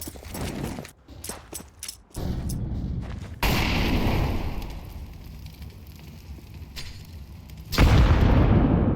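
Counter-Strike match on Dust2 with gunfire bursts followed by a loud bomb explosion and a lingering rumble, then a second heavy boom near the end, with no talk.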